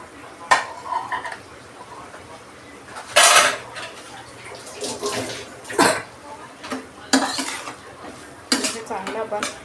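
Okra curry in a pot being stirred as jaggery goes in, with repeated metallic scrapes and clanks of a spoon against the pot at irregular intervals over a faint background.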